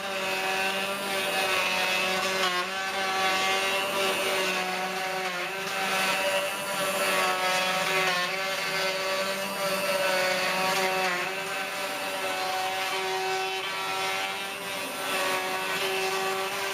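A CNC router with a dust shoe fitted surfaces its own machine table, cutting slightly wider than the table. The steady, loud whine and cutting roar run continuously with small fluctuations and no talking.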